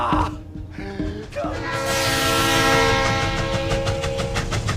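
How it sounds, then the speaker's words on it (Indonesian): A train travels along the rails with a deep rolling rumble, sustained horn-like tones swelling over it and a faint rhythmic clatter near the end, fairly loud and close, with no talk. "kemudian dibawa menggunakan sebuah kereta api"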